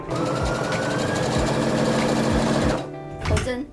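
A sewing machine runs steadily as it stitches a seam half a centimetre in from the fabric edge while altering a pocket with a French seam. The close, rhythmic whir stops near the end as someone speaks throughout.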